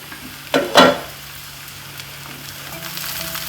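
Ivy gourd with coconut cooks in a pan as two loud clanking stirs ring out early, then a soft, low sizzle carries on quietly alone.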